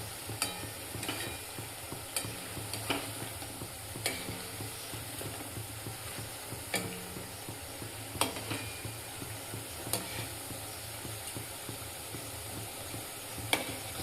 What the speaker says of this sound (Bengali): এইভাবে তেলটা এই জায়গায় ছিটকে দিতে হবে, তাহলে ভাজাটা তাড়াতাড়ি সুন্দর হবে।